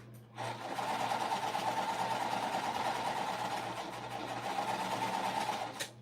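A sewing machine runs steadily while stitching a puff quilt pillowcase, a close continuous motor hum with a fast needle chatter that starts abruptly and stops near the end, with no voices.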